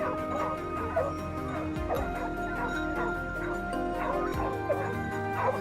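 A pack of hunting dogs chasing wild boar through fields, barking and yelping repeatedly at a moderate distance with excited, overlapping calls in a steady rhythm.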